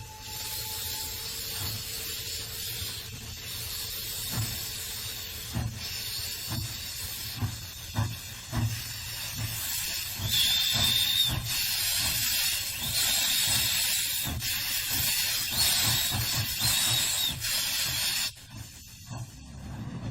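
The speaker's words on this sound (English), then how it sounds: "an SY locomotive erupts in near volcanic displays of superheated smoke and" An SY steam locomotive in China releases superheated steam in a loud, continuous roaring hiss, with rhythmic chuffing pulses and metallic clanks underneath, close by for about twenty seconds with no talk.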